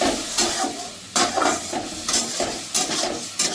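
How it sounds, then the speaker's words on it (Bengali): Masala spices for vegetable tadka dal stir-fried with a splash of water in a pan, a steady close sizzle broken by repeated scraping strokes of a spatula roughly every second. "এবার ভালো করে আমি এটাকে একটু কষিয়ে নেবো মশলাটাকে"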